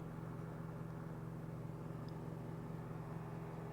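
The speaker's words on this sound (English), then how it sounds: "Now we've got the blades working, the throttle is forward" A Stiga Park PRO 540 IX AWD ride-on mower runs with its blades engaged and throttle forward, making a steady low engine drone and hum that stays even and moderately quiet throughout.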